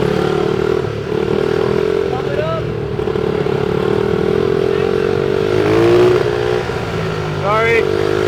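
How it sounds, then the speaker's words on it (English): A pit bike engine idles and runs steadily at a crowded Gridlife Atlanta 2017 drifting event, close and continuous, with people talking over it and other car engines rising and falling nearby. "There's way too many people to be riding a pit bike with a camera."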